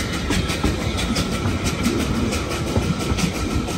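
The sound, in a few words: narrow gauge railway wagons, Lynton and Barnstaple Railway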